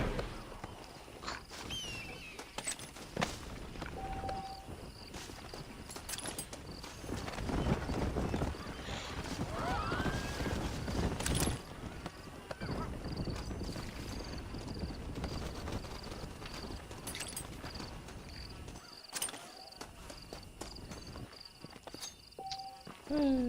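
Horse in the Red Dead video game walking with steady clip-clop hoofbeats close by, mixed with game ambience, occasional whinnies and brief voices across the whole stretch.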